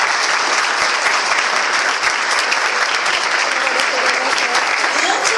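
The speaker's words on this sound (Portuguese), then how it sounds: "E eu gostaria que vocês aplaudissem o professor Jeremias" Audience applause for Professor Jeremias at a university mock jury, dense steady clapping from a room full of people, loud and sustained throughout with a voice faintly beneath it.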